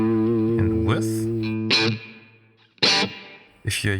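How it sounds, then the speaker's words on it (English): An electric guitar, played through a Two Notes Captor X load box with a wide stereo reverb, rings out in sustained distorted notes, then sharp pick strikes cut in and each one decays into a spacious reverb tail. "So now the reverb is very narrow. And now the reverb is very left and right. So very spread."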